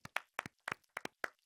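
A handful of people clap briefly in a sparse, uneven pattern of about eleven sharp hand claps grouped in pairs, close and fairly quiet, with no talking.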